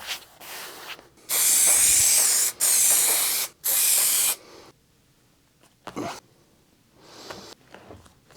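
Silicone spray hisses from an aerosol can onto the blades of upholstery scissors, three loud bursts of about a second each, followed by quieter handling sounds.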